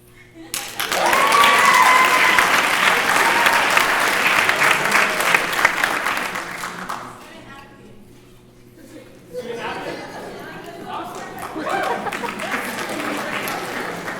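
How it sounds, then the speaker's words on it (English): An audience at a storytelling event bursts into loud, sustained applause and cheering that fades after several seconds, followed by a second, softer round of clapping with some voices underneath. "Let's give another round of applause for everyone who shared theirs."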